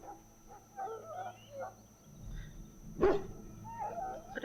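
A Mabari war dog in Dragon Age Origins whimpers softly, then lets out a single sharp bark, with more whining after it, close and clear over a faint steady game hum.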